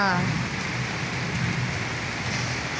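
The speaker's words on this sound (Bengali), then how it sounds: "বাইরে তো প্রচুর বৃষ্টি।" Heavy rain falls outside at night, a constant close hiss of downpour with a low rumble beneath it, steady throughout with no voices.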